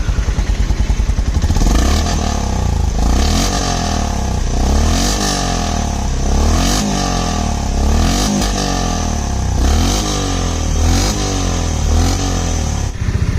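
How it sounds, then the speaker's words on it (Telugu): A Honda CB 350 H'ness motorcycle cranks and fires, then settles into a loud, steady close-up exhaust note with a pulsing beat and a few throttle blips, no talking. "ఎగ్జాస్ట్ నోట్ అయితే వినండి"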